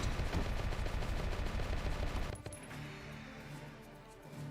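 A rapid, continuous burst of automatic gunfire from the PlayStation 3 game Valkyria Chronicles rattles loudly for about two seconds, then cuts off into quieter game ambience.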